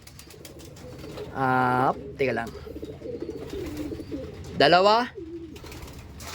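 Racing pigeons coo in two loud, close bursts with softer calls between, while someone talks over them.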